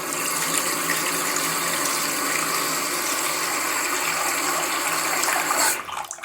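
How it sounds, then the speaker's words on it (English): Water pours steadily from a tap through a sink fitted with a pop-up plug, a loud, continuous rushing close by that cuts off abruptly near the end. "So here it is with the water running through, like so."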